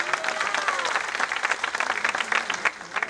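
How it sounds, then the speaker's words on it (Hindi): An audience applauds a Banjara folk dancer who balanced many pots while standing on a sword and glass; the clapping is a dense, fluttering roar with a faint voice underneath. "ताली बजाओ बेटी के लिए।"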